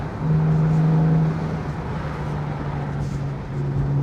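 A Porsche 911 991 Carrera S engine drones steadily from inside the moving car, holding an even tone that dips slightly midway and then swells again at the end.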